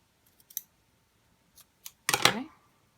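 Scissors cut thick white baker's twine, with a few faint light clicks and then one sharper, louder snip up close in an otherwise quiet room.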